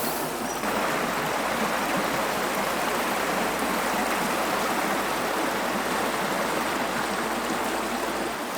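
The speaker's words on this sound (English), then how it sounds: "the water's flowing quite hard and fast" Fast-flowing river water rushes steadily and loudly, a dense broadband roar close by with no voices.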